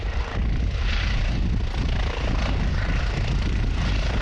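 Armed Forces helicopters carrying Bambi Buckets fight a wildfire in a ravine near Quito, their rotors and engines producing a loud, continuous, dense roar that stays steady throughout.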